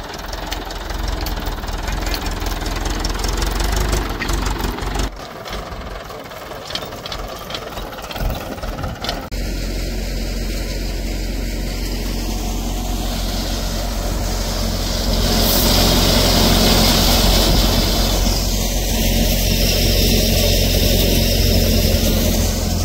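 A farm thresher runs continuously while threshing Pusa Manav chickpeas into a trolley, a loud steady mechanical drone with rattling and knocking that persists throughout and swells slightly louder toward the end.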